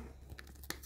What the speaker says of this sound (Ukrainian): Так, трішечки пакетик у мене порвався.